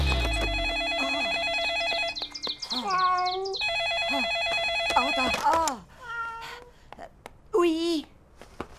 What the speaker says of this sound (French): Et ce maudit téléphone qui n'arrête jamais.